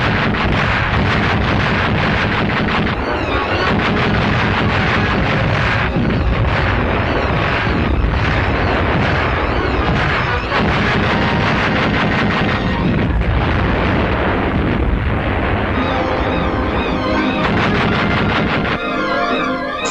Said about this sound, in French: Les mitrailleuses contre avions sont doublées par les canons Beaufort à cadence rapide qui nettoient le ciel